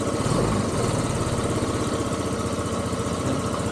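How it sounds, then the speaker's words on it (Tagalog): A small motor idles steadily at about 1,500 RPM after an idle fault was fixed with a small sticker. The hum is loud, close and even, with a fast regular pulse and no rise or fall in speed. "Start natin yung motor."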